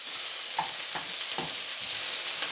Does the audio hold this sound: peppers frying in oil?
yes